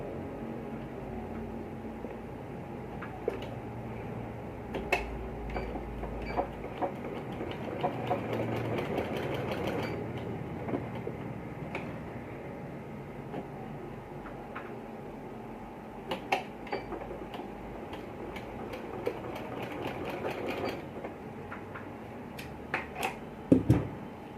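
A sewing machine stitches a button placket on a kurta, a soft, fast mechanical chatter running in long bursts with brief pauses and scattered small clicks, quiet and close.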